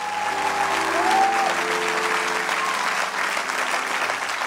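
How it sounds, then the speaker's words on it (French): Audience applause fills a church service during a pastor's sermon, steady sustained clapping from a large congregation throughout, with faint voices and a few whistle-like cheers rising above it. "Acclame la parole, acclame la parole."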